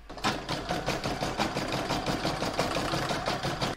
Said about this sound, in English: It's now going to quilt the green block, and that's with round number 20.